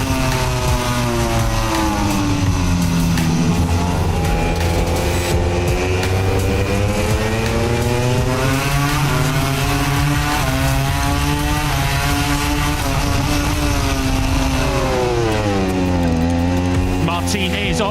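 MotoGP motorcycles racing off the line at the sprint start in Japan, a loud dense roar of many high-revving engines with overlapping rising and falling pitch sweeps as the bikes shift gears, continuing unbroken throughout.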